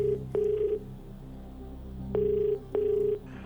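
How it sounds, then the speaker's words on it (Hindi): Telephone ringback on a TV quiz show as a call is placed to a contestant: two pairs of electronic ring tones, each pair a pair of steady beeps, separated by a pause, clear and alone. "और कंप्यूटर जी इनको फोन लगाया जहां हम इनसे बात करना चाहते हैं।"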